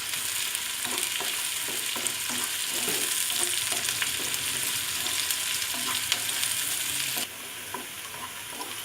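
Sliced onions frying in a pan with salt added until they turn brown and crispy, a steady close sizzle throughout with occasional stirring scrapes, and the sizzle drops slightly near the end.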